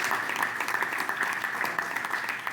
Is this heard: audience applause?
yes